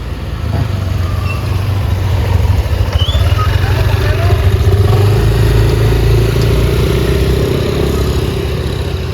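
Steady, loud road traffic at a U-turn turnaround, a constant engine rumble of cars and motorbikes passing close by, with a voice talking faintly underneath.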